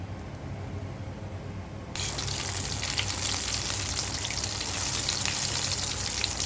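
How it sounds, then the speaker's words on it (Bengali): Chicken pieces drop into hot oil and start frying: a quieter hiss jumps into a loud, dense crackling sizzle that carries on steadily, close by with no voices. "চিকেন ফ্রাইটা ভাজা হচ্ছে।"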